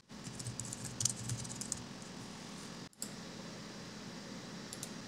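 Quick bursts of keystrokes on a computer keyboard, close and fairly quiet, with clustered clicks early, a brief silent gap near the middle, then lighter scattered taps over a faint fan hum.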